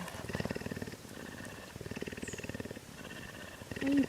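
A mountain lion purrs up close, making a rhythmic rumbling purr in repeated pulsing bursts as it breathes in and out, with no talking.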